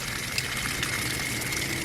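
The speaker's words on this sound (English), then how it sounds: "we're just gonna open up the pop-off valve and let that water out of there" Water pouring out of a travel trailer's tank through an opened pop-off valve, a steady close rushing gush with no pauses for the whole short stretch.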